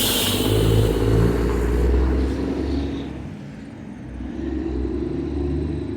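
Heavy trucks rumble past on a street in the small town of Maxville, Ontario, deep engine drone swelling as one nears and fading before another approaches, loud and close with no talking.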